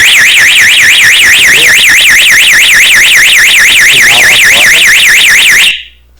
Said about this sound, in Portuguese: ficou contínuo e disparou o alarme